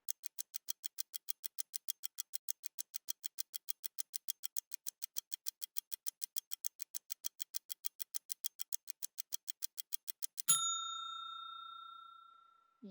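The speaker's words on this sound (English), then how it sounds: "It is an alarm clock." An alarm clock ticks in an even, rapid rhythm for about ten seconds, crisp and close, then a single bright metallic ding rings out and slowly decays.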